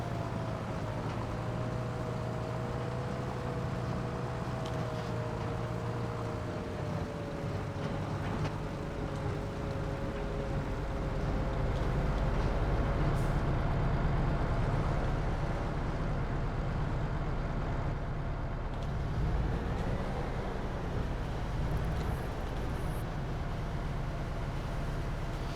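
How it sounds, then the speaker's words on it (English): A combine harvester in the Krustoo Farms Homestead Survival farming game drones steadily with a low engine rumble and a faint whining tone, swelling slightly midway, continuous throughout with no talk. "Put the combine away, then I'll come back and get the tractor."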